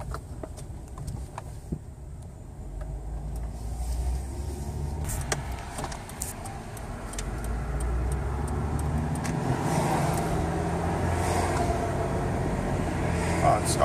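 Car with an automatic transmission after an ATF fluid change accelerating and upshifting smoothly, engine and road noise rising steadily from inside the cabin, with voices talking over it.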